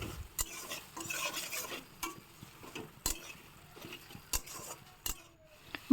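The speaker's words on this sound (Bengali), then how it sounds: "ভালো করে কষিয়ে নেব মশলা সহ আলুটা, তাতে করে আলুটা সিদ্ধ হয়ে যাবে তাড়াতাড়ি।" Potatoes with spices being stirred and sautéed in a pan, a spatula scraping and tapping in repeated strokes over a soft sizzle, close and fairly quiet, with sharper knocks against the pan now and then.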